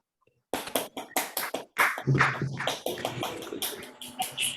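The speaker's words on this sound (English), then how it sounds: "Let's give a round of applause." An audience claps after a talk at a research seminar, the sharp irregular hand claps starting abruptly and continuing close and loud for several seconds with no voices over them.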